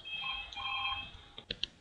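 A telephone ringing during a game session, a bright electronic trill heard twice at moderate distance, followed by a few short clicks as it stops.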